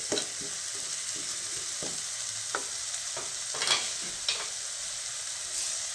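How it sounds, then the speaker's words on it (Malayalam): A tomato and onion mixture is stirred in a pan, its steady sizzle broken by a series of distinct spoon scrapes and clicks against the metal, close and fairly quiet with no talking. "നമുക്ക് ഇതെല്ലാം കൂടെ നല്ലപോലെ ഇളക്കി ഒരു മിനിറ്റ് ഒന്ന് അടച്ച് വെച്ച് വേവിക്കും"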